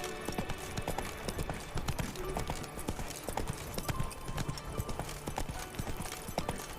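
Roach's hooves clip-clop on the ground in The Witcher 3 in a quick, steady walking rhythm, close and clear over faint ambient game sound.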